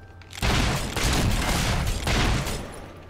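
Sustained gunfire aimed at a pack of Balverines in Fable 3, a dense, loud fusillade of rapid shots and booms rolling continuously with brief swells, no voices over it.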